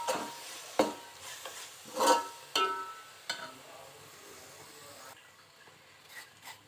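Something is being fried in oil in a pan for an Andhra fish curry, with sharp, irregular stirring scrapes and clacks over a faint sizzle, growing quieter later.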